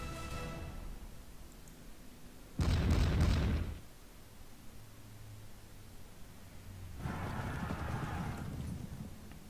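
Artillery fire in the Pike and Shot strategy game: a loud, broadband boom lasting about a second, followed later by a quieter rumbling burst, over a steady low background with faint hoofbeat-like clatter.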